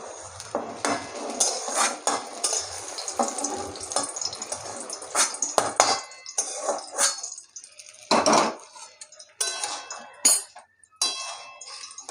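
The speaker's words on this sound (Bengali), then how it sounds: "এবারে ভেজে রাখা চিংড়ি মাছগুলো দিয়ে দেবো" Fried small shrimp tipped into a simmering curry and stirred, with spoon and utensil clatter against the pot, scraping, and watery bubbling in close, busy bursts with brief pauses.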